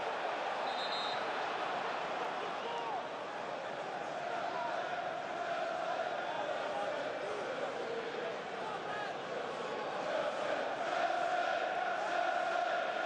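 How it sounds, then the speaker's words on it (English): A stadium football crowd at Chelsea versus Newcastle keeps up a broad, steady roar of cheering and chanting from a distance, with a commentator's voice talking over it. "Crowd doing their best to lift Chelsea."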